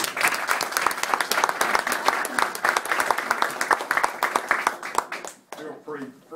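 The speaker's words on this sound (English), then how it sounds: "Feel free to applaud as long and as loud as" An audience at an outdoor press conference on a town square applauds, a crowd of many hands clapping loudly and steadily for about five seconds before the clapping stops abruptly and a voice begins.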